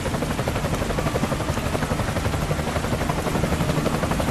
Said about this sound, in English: That's a cool looking chopper.